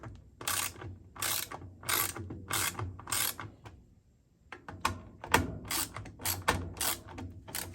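A ratchet loosens a fastener on a GE washing machine, with bursts of rapid metallic clicking in two rounds separated by a brief quiet pause, close and distinct.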